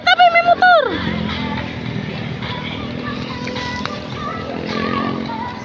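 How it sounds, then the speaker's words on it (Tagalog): A motorcycle passes along a busy street with a revving buzz that quickly drops in pitch, followed by general traffic rumble and a person speaking. "Tabi, tabi, tabi, may motor."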